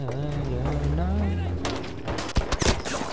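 Gunfire crackles in Battlefield V at a train station: a voice speaks first, then sharp, close bursts of shots and volleys follow, loud and uneven.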